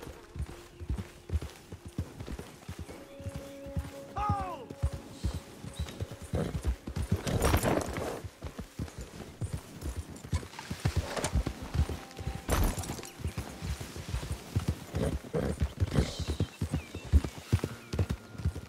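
Horses' hooves clip-clopping steadily as riders set off near Manzanita Post in Red Dead Online, with a whinny in the middle and dense, close hoofbeats throughout the ride.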